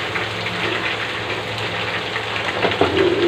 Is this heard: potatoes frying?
yes